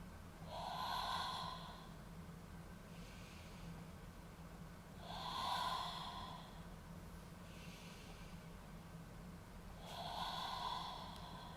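Slow, deep breaths during an exercise routine, each long audible inhale and exhale rising and fading in a steady cycle about every four to five seconds, close and unaccompanied by speech.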